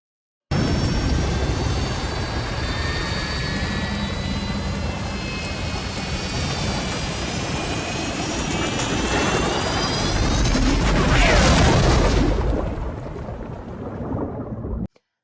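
A film crash scene from Cast Away: an aircraft engine roars loudly, and a rising whine spools up into a broad, thunderous burst before dropping to a lower rumble.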